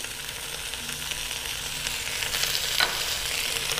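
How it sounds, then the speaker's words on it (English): A pan of onions and seasoning sizzles steadily and close up in stainless cookware, a dense, even hiss with a slight swell near the end and no voices. "Adding lots of onions and seasoning"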